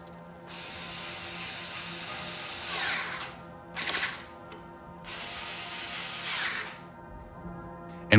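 A power drill driving fasteners to secure an electrolyzer onto a water-fuelled generator frame, whirring in three sustained runs with short pauses and a ratcheting edge, close and moderately loud, no speech.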